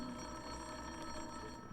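An old-fashioned telephone bell rings steadily in a radio drama scene, a continuous metallic ringing heard alone at moderate level with no voices.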